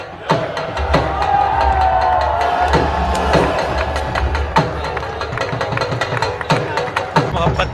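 Soldiers at the Wagah border flag-lowering parade shout spirited slogans while a crowd claps and cheers, with sharp stamps and claps striking irregularly over a constant crowd roar and a low engine-like drone.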